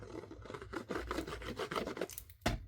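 A glued paper piece is burnished by hand onto a card base in a papercraft project, giving close, steady rubbing and scraping strokes in a quick repeating rhythm, with one sharper scrape near the end.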